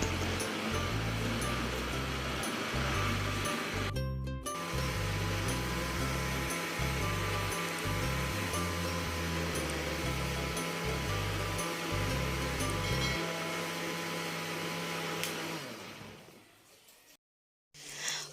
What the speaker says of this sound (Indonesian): Selanjutnya biar cepat, ini adonannya akan saya blender.